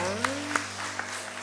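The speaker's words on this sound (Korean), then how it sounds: "큰 축복의 박수 다시 한번 보내겠습니다" A church congregation applauds during a Sunday worship service, with soft, diffuse clapping under a sustained tonal backdrop and a few louder claps standing out in a brief burst.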